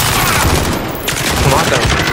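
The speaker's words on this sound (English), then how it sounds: "I'm taking fire." Dense, loud gunfire in the online shooter Call of Duty Warzone, a sustained burst of shots filling the short stretch with game noise.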